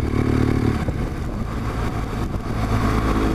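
BMW R1200GS motorcycle engine droning steadily while riding on a pleasant, slightly windy day, with broadband wind rush over the engine throughout.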